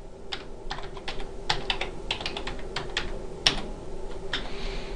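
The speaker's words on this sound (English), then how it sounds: "So I'm going to change my password. And I have to retype it." Someone retypes a new password on a computer keyboard, with a quick, irregular patter of close key clicks over a low steady room hum and no speech.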